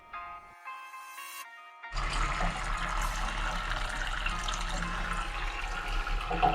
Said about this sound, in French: On peut voir que ça coule bien mais il a quand même fallu une bonne heure pour vider le chauffe-eau.